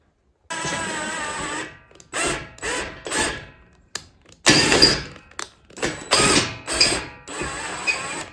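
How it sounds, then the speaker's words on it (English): A screwdriver turns a welded nut to adjust the height of homemade adjustable feet, producing repeated bursts of grinding, ratcheting mechanical noise in uneven short runs, close and fairly loud, with brief pauses between turns. "use a screwdriver to adjust the height easily"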